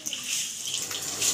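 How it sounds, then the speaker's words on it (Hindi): Water splashes steadily onto a floor as it is washed during house cleaning in a Pakistani home, a continuous close hiss of pouring and spreading water with no talking. "पानी पा देना, साफ हो जाएंगे।"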